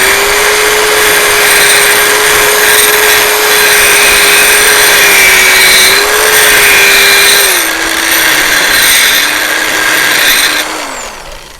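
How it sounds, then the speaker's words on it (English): An old Black & Decker grinder runs loudly and continuously at close range, a steady high whine whose pitch dips slightly near the end before it spins down, with no talking. "this is my janky grinder bolt setup"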